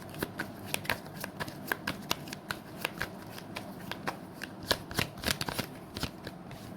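Tarot cards are shuffled close up, a quick run of crisp, papery riffling snaps and flicks in an irregular rhythm, with nothing else heard.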